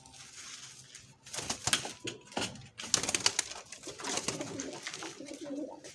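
Multani pigeons, including a breeder pair kept for sale in Multan, coo close by in soft repeated calls with occasional wing flutters and rustling.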